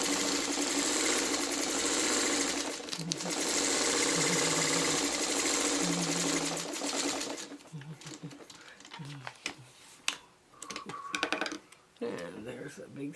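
A sewing machine stitches a 12.5-inch quilt block with a loud, steady motor whir up close, then stops and gives way to short bursts of stitching, pivoting clicks and handling noise while a person talks.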